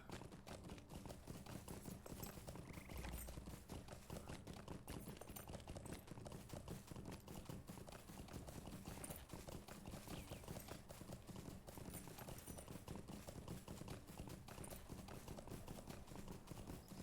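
Horse hooves clip-clop steadily and continuously in Lord of the Rings Online, a dense, even trotting rhythm of hoofbeats on the ground with game ambience behind.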